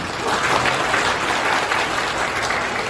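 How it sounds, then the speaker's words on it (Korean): Wedding guests applaud steadily at a son's wedding held during the pandemic, a dense, even clapping that fills the whole three seconds with no voices. "아버님께서 힘내실 수 있도록 다 같이 큰 박수 부탁드립니다."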